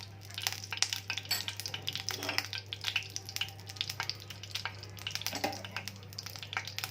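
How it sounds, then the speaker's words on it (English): Ghee heating in a pan for vermicelli kheer, giving a soft crackling sizzle with light stirring and clinks over a steady low hum, with no talking. "First we are going to add ghee."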